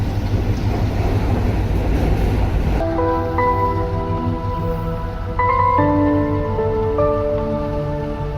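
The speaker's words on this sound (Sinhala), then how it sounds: "දැන් ට්‍රේන් එකත් එන්න ඕනේ හැබැයි." A train pulls in with a broad, steady rumbling roar for the first few seconds before sustained melodic music takes over and continues to the end.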